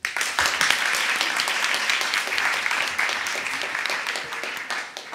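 Loud audience clapping at the Euroscola Sisak 2015 student event in a hall, rising quickly and holding steady before tapering slightly at the end, with no talk over it.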